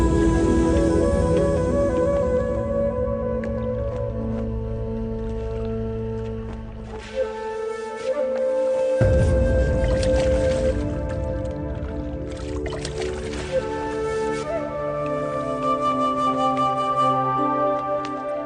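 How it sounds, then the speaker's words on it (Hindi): Two clay pots are lowered into water, giving gurgling, bubbling splashes and pouring sounds over a steady musical background with sustained tones throughout. "अब आप इन दोनों घड़ों को पानी में डाल दीजिए।"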